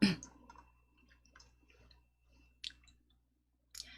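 A computer mouse clicks while working in PowerPoint: a sharp click at the start, then two more isolated clicks later, faint and close against a quiet room.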